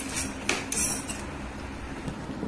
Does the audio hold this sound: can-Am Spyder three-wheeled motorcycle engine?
no